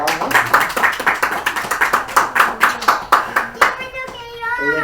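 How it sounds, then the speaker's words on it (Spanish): A small church congregation at a worship service claps in a brisk, even rhythm of sharp, close hand claps. A voice comes in as the clapping stops. "vamos a dar un aplauso a Laura"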